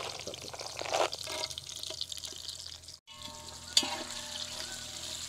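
Cashews fry in oil in a pot over a wood-fired stove on a farm, cooking for chicken pulao, giving a steady close sizzle with faint clinks and a brief pause midway.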